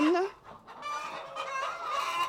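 Hens on a free-range organic egg farm of about 1,800 birds cluck close by in a busy, overlapping chatter, with one bird's drawn-out call rising at the start.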